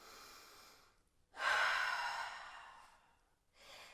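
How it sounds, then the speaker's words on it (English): A slow, deep breath during an at-home pelvic floor exercise session: a soft inhale, then a long, airy, sighing exhale, close and otherwise quiet. "Maybe you just breathe deeply."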